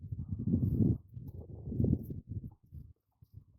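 A horse out on grass shifts about and chews, making a close series of low, muffled thuds and rustles that break into short scattered bumps before going quiet.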